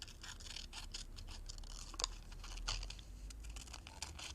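Small scissors snip out a paper butterfly, a quiet close run of quick crisp cuts and light paper rustling in an irregular rhythm, with no talking.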